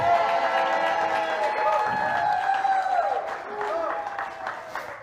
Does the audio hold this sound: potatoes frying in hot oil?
no